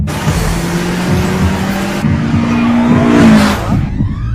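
A Toyota AE86 in the Initial D anime charges fast into a corner, its engine droning and pitching up. A brief tire squeal comes near the end, loud and close, with no talking.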